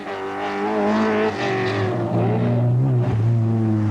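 A Ferrari rally car on a 1992 Tour of Mull stage drives past with a loud, sustained engine note that swells and shifts pitch as it works through the gears, with no talk.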